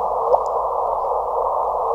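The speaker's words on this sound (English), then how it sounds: "This is the sound of two black holes merging in the universe." Sonified gravitational-wave signal from two black holes merging, heard as a steady mid-pitched electronic tone band with a brief rising chirp early on, clean and continuous throughout.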